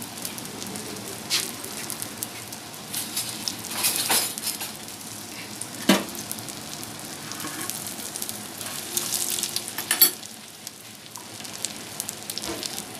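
Chicken tikki burger patties sizzle and crackle in a frying pan, a steady close hiss with occasional sharper pops and scraping.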